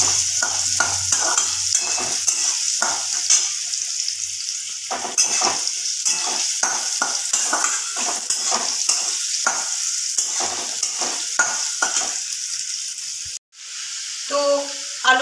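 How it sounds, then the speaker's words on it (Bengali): Small diced potatoes frying in hot oil in a pan, a loud steady sizzle with repeated scraping and tapping of a spatula stirring them, close by, ending in a brief pause and clatter. "তো আলুগুলো আমার লাল হয়ে ভাজা হয়ে গেছে"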